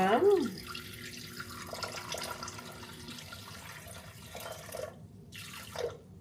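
Water pours and trickles into a bowl while a person talks over it, measuring 300 grams of water for homemade dough in a kitchen.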